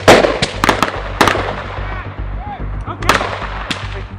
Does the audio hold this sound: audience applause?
no